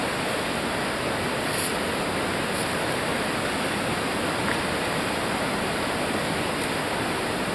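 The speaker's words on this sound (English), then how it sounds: "Linville River." Linville River rushing through its boulder-strewn gorge, a steady, loud broadband roar of flowing water with no breaks, close by and without voices.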